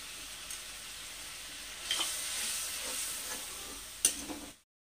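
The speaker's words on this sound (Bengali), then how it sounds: "মশলাটা 5 থেকে 6 মিনিট মতন আমি কষে নিলাম।" Spice paste frying in mustard oil sizzles steadily up close, with a few sharp stirring scrapes and a louder clack near the end before it cuts off abruptly.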